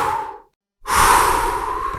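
A wolf in a children's story of the three little pigs draws a deep, breathy inhalation after a brief pause, a loud sustained rush of air lasting over a second, close and alone with no talk.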